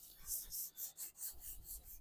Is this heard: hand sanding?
yes